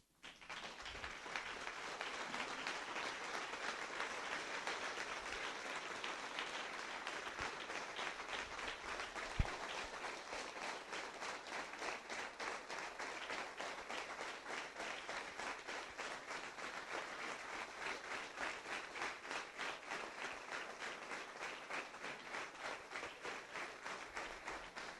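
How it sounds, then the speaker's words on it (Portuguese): A church congregation stands and claps for a pastor couple, a long, steady ovation of many hands that settles into a rhythmic unison beat and stays even and moderately loud throughout. "Eu queria que todo mundo se levantasse e desse essa salva de palmas para eles."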